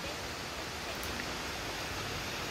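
A waterfall near Ta Van village in Sapa, Vietnam, pours as a steady, even rush of water, constant and moderately loud with no other sounds standing out.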